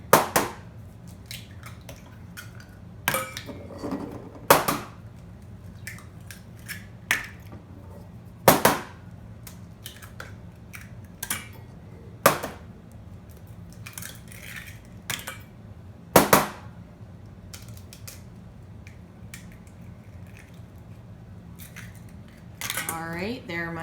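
Six eggs cracked into a bowl for egg custard, with sharp, distinct cracks spaced irregularly through the stretch and quiet kitchen clatter between them.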